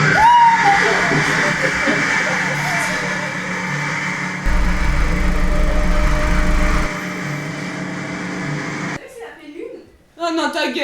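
A steady engine drone runs loud and continuous, with a low rumble shifting midway, then cuts out near the end as voices talk.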